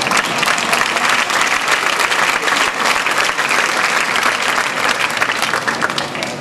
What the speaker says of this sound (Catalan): Mira que aplaudir això